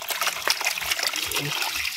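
A plastic water pot for chickens is rinsed under running water on a backyard poultry farm. Close, splashing trickles and sloshes come in quick bursts over two seconds.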